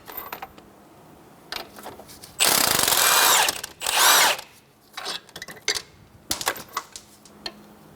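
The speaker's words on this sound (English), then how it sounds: "Using a 21mm wrench and 21mm socket, we are going to remove the 2 strut to knuckle bolts." A 21mm socket removes strut-to-knuckle bolts on a 2007-2012 Nissan Altima. Two loud, close mechanical bursts of whirring and rattling are followed by scattered clicks and clanks of tools against metal.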